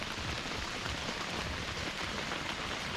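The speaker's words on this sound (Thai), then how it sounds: "อันนี้ฝนตกนะครับฝนตกจริงๆนะครับ" Rain falls on a hiking camping tent in Suan Phueng, a steady, dense hiss of drops drumming evenly on the fabric throughout, with no voices.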